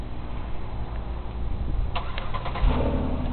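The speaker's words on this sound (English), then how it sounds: "let me just start up the car here." A car with performance tires, parked in deep snow, cranks with a low churning starter rumble that catches after about two seconds into a firmer engine note, close and steady.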